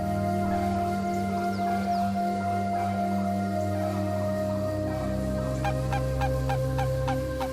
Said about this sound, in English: Flocks of flamingos fly in from Lake Natron, Tanzania, where they breed at the end of the dry season.